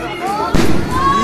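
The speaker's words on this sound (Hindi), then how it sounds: "सबसे पहले स्टार्टिंग करते हैं यहाँ पे एक स्काई शॉट से।" A sky shot firework launches during Diwali celebrations: one sudden whooshing burst about halfway through, briefly louder, under voices and background crowd chatter.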